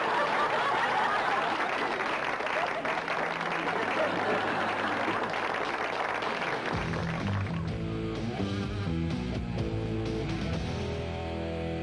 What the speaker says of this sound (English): So let's give one final round of applause to Charlie.